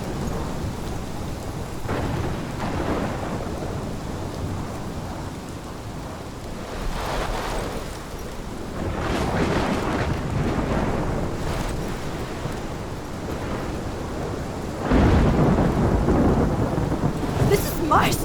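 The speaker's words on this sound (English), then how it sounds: "This is my storm." Heavy thunderstorm in Life is Strange, with steady pouring rain and repeated rolling thunder claps that swell louder near the end, no voices.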